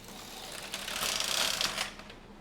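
A knitting machine carriage runs back across a row of stitches, making a rattling mechanical clatter that swells for about a second and then fades, with no one talking.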